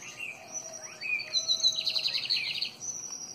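A lined seedeater sings from an outdoor aviary area, a series of thin high chirps and short trills, fairly close and alone with no talk.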